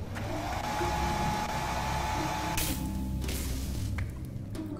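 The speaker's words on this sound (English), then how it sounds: "Attack button to charge your hairdryer for a stronger shot." A charging hairdryer weapon in the video game Onirism whirs with a steady, fairly quiet motor-like drone, broken by a few short bright bursts of shot or impact noise.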